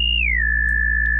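A resonant oscillator-sync tone from a u-he Bazille modular synthesizer holds a bright pitch, glides downward, then settles on a steady sustained note over a strong low drone.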